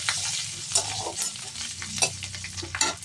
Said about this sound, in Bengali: গোটা রসুনগুলিকে আগে থেকে ছাড়িয়ে রেখেছিলাম সেই রসুনগুলি আমি এখন দিয়ে দিলাম